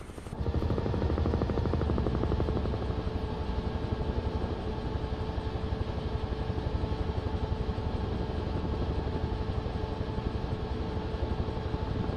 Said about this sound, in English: Let's jump back into the helicopter.